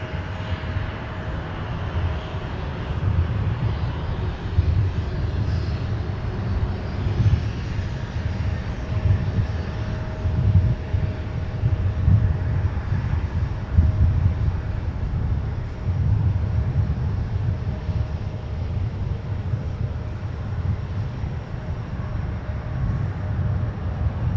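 A Star Alliance airliner taxis at Minneapolis–St. Paul airport, its engines giving a steady, continuous low rumble and whine at moderate distance, with some wind buffeting the microphone throughout.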